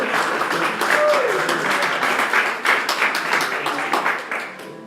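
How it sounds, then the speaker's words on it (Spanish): A church congregation breaks into applause during a Spanish-language service, a dense, steady wash of clapping that fills the room, with some voices mixed in before it tapers off at the end. "la iglesia le da un aplauso a ellos, a los que están escuchando la palabra"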